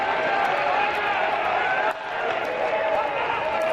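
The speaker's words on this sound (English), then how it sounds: "You can hear that crowd really getting into it now." Basketball crowd in an arena cheers continuously, a loud, dense roar that dips briefly midway before swelling again, with a few sharp shouts above it.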